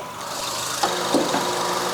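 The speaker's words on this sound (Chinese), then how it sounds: "那这副引擎发出来的声音， 还有它的 compressor 声音呢" A 2013 Honda CR-V with the naturally aspirated 2.0-litre R20A i-VTEC four-cylinder idles with its air-conditioning compressor running, a steady low hum with a few faint clicks over about two seconds.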